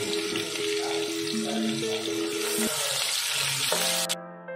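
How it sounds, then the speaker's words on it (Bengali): Chopped onions fry in oil over a medium flame for chicken biryani, giving a continuous close sizzling hiss with a steady tonal hum beneath, cutting off abruptly near the end. "সেই পেঁয়াজটা কিন্তু আমি তেলে দিয়ে দেবো। দিয়ে মোটামুটি এটা 5 থেকে 7 মিনিট আমি মিডিয়াম ফ্লেমে কিন্তু ভাজা করে নেবো।"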